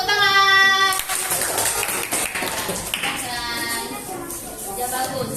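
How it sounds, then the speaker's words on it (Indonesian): Students in a classroom clap for group 2, a steady patter of many hands filling the room, mixed with children's voices and a teacher talking over it. "Terima kasih untuk kelompok 2. Tepuk tangan."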